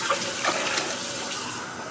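Water pours onto sugar in a pot to make syrup for gulab jamun, a steady, rushing stream heard up close with no voices.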